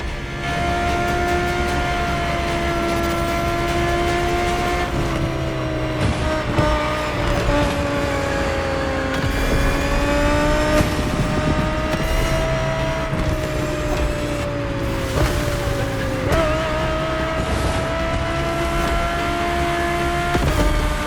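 A 2020 Audi R8 LMS GT2 racing car in The Crew Motorfest holds a loud, steady engine drone for a long stretch, its pitch rising and dipping slightly with throttle and gear changes, with no voices.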